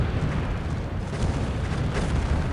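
Continuous rumbling bursts of cannon fire aimed at spider units in the strategy game Earth 2150, a dense, noisy barrage of overlapping booms with no voices.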